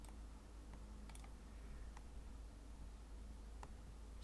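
Keys on a computer keyboard are pressed in sparse, scattered clicks while spreadsheet cells are selected, faint against a steady hiss.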